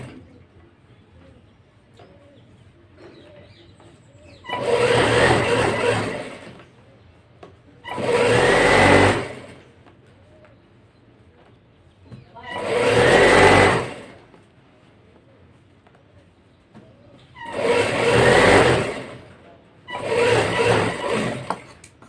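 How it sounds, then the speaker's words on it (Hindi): A sewing machine stitches a blouse in five separate bursts of fast, whirring needle motion, each lasting a second or two, with quiet pauses in between. "इसी तरह नीचे भी सिलाई लगा लेंगे"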